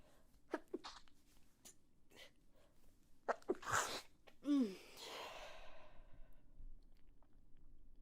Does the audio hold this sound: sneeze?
yes